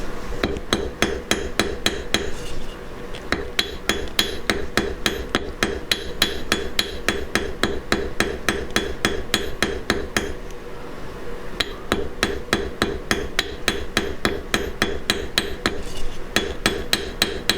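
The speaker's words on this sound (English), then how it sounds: "we're going to forge the two ends" Steady, rapid hammer blows forging the two ends of a silver piece, a dense run of sharp metallic strikes with a brief pause midway, close and loud with no talking.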